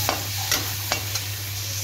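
Onion and tomato frying in a pan for poha, with a spatula scraping and stirring in a few distinct strokes over a low, steady sizzle, close by and with no talking.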